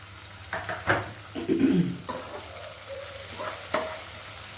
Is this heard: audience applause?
no